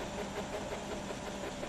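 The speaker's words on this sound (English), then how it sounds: "I'm just revving this little engine up." An F1 car engine from the racing game F1 2017, revved with the throttle feathered, gives a steady buzzing drone at a constant level that stays close and continuous with no voices.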